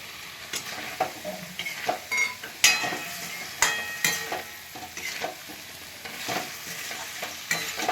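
A spoon stirs broccoli and vegetables frying in a pan for a vegetarian dish, with sharp irregular scraping clatters over a soft sizzle and a few bright metallic clinks.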